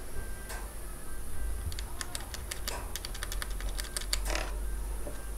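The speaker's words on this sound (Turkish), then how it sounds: "Optik bir Red Switch'imiz var klavyemizde." Keys on a Gamepower Calypso keyboard with optical red switches give a quick run of crisp, light clicks in irregular bursts, close and fairly quiet over a steady background hum.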